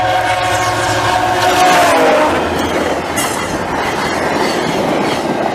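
A VIA Rail train passes close and loud, wheels clattering over the rails with a horn blast near the start, the rumble sustained throughout with no talk.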